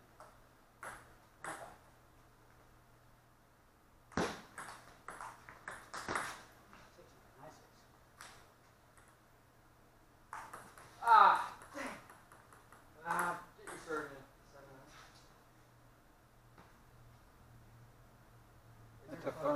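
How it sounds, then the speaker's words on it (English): A phone notification pings several times, short bright tones scattered among quiet conversation and movement in a room. "That's a phone. Somebody's phone."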